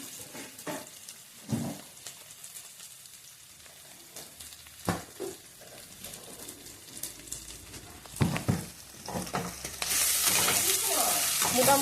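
Spice paste frying in a pan, a steady sizzle with scattered stirring scrapes and clinks, growing louder and hissier toward the end.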